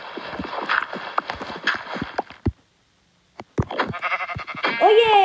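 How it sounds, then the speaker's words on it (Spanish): A sheep in the video game Minecraft gives a short bleat near the end, after a stretch of clattering footsteps and game noises, a brief silence and a person speaking. "Oye, quítate, oveja."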